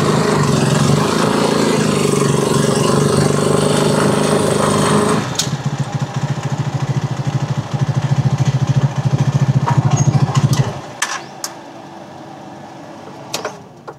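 A Rusco Caruza 200 liquid-cooled motorcycle engine idles loudly with a steady rattling drone, then drops to a quieter putter before cutting off, followed by a few clicks.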